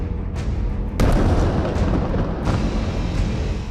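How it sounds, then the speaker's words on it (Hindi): An explosion from a Hezbollah strike on Israel hits with a sudden deep boom, followed by a heavy rolling rumble and a second sharp burst a moment later. "पहला धमाका"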